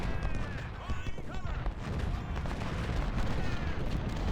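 Civil War cannon artillery in Ultimate General: Civil War rumbles through a dense, continuous battlefield din of booming guns and crackling musketry, loud and close, with some talking over it.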